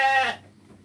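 A sheep on a farm gives one short, loud bleat up close with a wavering harmonic tone, dropping off after about a third of a second into quiet background.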